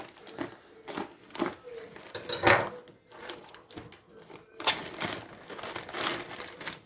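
A plastic package holding a knife order is crinkled and torn open close by, with irregular rustling bursts and handling noises, fairly quiet, with some faint talk.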